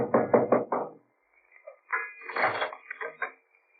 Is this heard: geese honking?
no